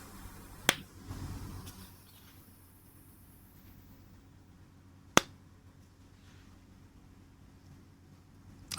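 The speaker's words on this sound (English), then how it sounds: "We can do a clap test." Two sharp hand claps, one early and one a few seconds later, each loud and isolated against a low, steady room hiss, made to test a microphone during a live art stream.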